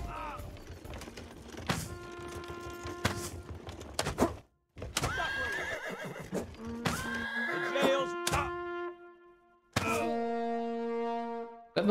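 A horse in the medieval video game Rustler neighs and whinnies several times in loud, wavering cries, mixed with thumps and other game effects.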